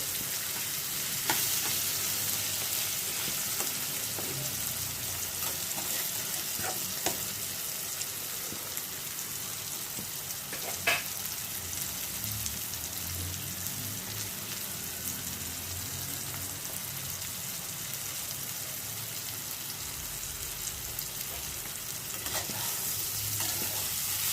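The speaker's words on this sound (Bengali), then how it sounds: "খুব ভালো ভাজা ভাজা হয়ে গেছে।" Ash gourd cooking with raw green mango in oil in a pan makes a long, steady, close sizzle with a rain-like patter, with occasional scrapes of stirring and no talk.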